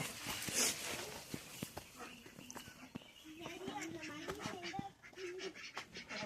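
Turkeys gobble in short, throaty bursts while feeding in a farmyard, close and intermittent, with a person talking over them.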